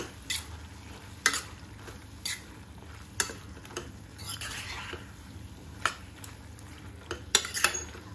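A spoon stirs creamy malai pasta inside a pressure cooker pot, scraping and clinking against the metal in irregular taps spaced about a second apart, close and fairly clear.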